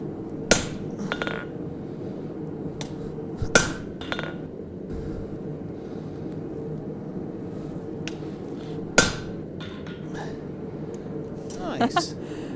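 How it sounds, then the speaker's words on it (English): A blacksmith's hammer forges a baroque finial on a swage tool in a shop, sharp metallic strikes landing singly and irregularly, some louder than others, over a low background hum with talk at times. "I'm just using a little swedge tool"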